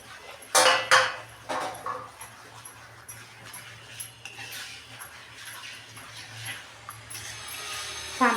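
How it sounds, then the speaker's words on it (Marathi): A spoon stirs urad dal and sugar in a pan over low heat, making soft irregular scrapes and clinks against the metal over a steady low hum. "आता आपल्याला हे कमी गॅसवर असं सतत हलवायचं आहे"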